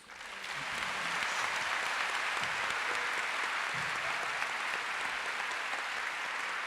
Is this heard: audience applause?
yes